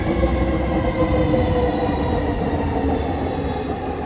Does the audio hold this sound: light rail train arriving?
yes